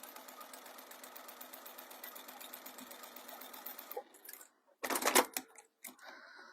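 A Clio B7 sewing machine stitches fabric with rapid, even needle clatter for about four seconds, close up, then stops and gives way to a few brief handling knocks and a short burst of noise.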